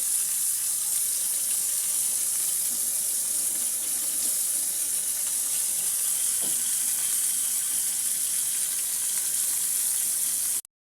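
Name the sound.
tilapia fish frying crisp in oil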